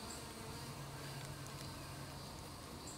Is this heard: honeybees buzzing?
yes